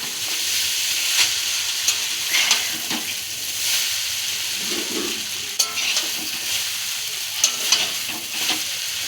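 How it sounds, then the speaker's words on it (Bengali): Chowmein noodles stir-fried in refined oil in a pan at home, continuous sizzling with repeated scraping and tossing clicks from the spatula, close and steady, no voices. "এবার নাড়াচাড়া করবো, একটু ভেজে নেব।"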